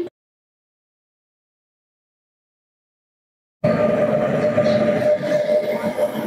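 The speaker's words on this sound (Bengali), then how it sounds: "এটা হচ্ছে আমাদের ট্রেন" After a long silence, a train suddenly rumbles loudly past at an Indian railway station, a steady heavy roar with a faint whine, close at hand.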